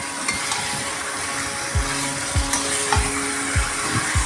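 Spiced chicken curry frying and sizzling in a pan, broken by repeated short scraping strokes of stirring in a steady rhythm, close and fairly loud, no talk.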